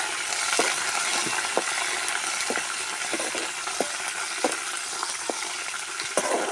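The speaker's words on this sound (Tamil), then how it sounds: "நல்லா பொரியிட்டு எல்லாமே சேர்ந்து நல்லா வதங்கட்டு" Dried red chillies and curry leaves crackle in hot oil as a village-style lemon rice tempering, a steady dense sizzle broken by sharp pops scattered through, close and alone.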